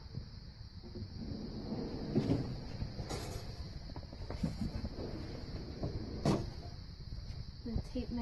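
Drawers of a theatre workshop tool chest slide open and shut, several scraping and clunking movements with a couple of sharper knocks, fairly close against a low background hum.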